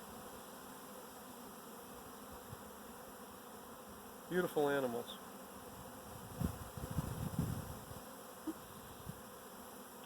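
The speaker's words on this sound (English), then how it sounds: "These are our Italian bees, Apis mellifera." Steady buzzing of Italian honey bees fills the background throughout, with a person briefly speaking over the hum partway through.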